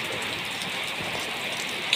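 Steady rain falling on a rooftop during house work in wet weather, a dense continuous hiss of drops heard alone with no talking.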